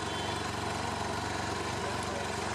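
A BMW F800GT two-cylinder touring motorcycle engine idles steadily close by, with a loud, even, chuggy throb that continues without a break and no talking over it.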